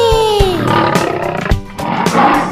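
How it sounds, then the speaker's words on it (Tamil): A lion gives a rumbling roar, loud and near, rising and falling over a couple of seconds with short breaks and no talk. "குமுறும் சிங்கம் காட்டிலே,"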